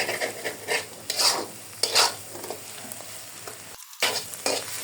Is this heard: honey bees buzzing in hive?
no